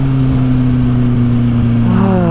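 A Kawasaki Z800 motorcycle fitted with an Akrapovic exhaust drones steadily at speed, a constant engine hum with wind rush, its pitch shifting slightly near the end.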